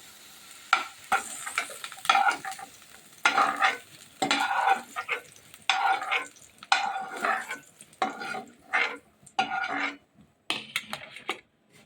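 Fried potatoes being lifted out of hot oil in a home kitchen, a series of short scraping, stirring clatters from a spatula at close range over a soft background sizzle, arriving in irregular bursts.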